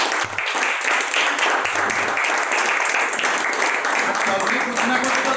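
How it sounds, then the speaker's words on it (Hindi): Sustained, dense applause from an audience at an indoor teaching session, many hands clapping loudly and evenly for several seconds without pause. "एक बार इनके लिए जोरदार तालियां होने चाहिए"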